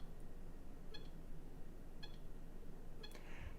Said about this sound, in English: you might be able to hear some beeping or clicking in the background